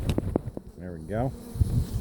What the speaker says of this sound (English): So I'm going to shake them bees off.